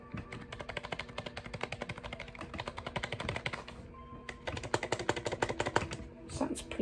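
Rapid, steady clacking of a new gaming keyboard being typed on, close up, with a brief pause midway before the keystrokes resume.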